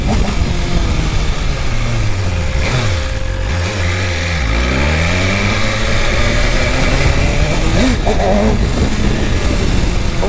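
A BMW S1000RR superbike engine revs loudly and continuously, with repeated rising and falling throttle sweeps, running rough after a modification on a hill, close up with no talk.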